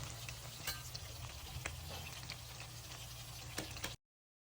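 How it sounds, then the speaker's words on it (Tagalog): Chicken fillet frying in hot oil, a steady dense crackle running evenly at moderate level with a few sharper pops, then cutting off abruptly near the end. "i-fry na natin sa mainit na mantika"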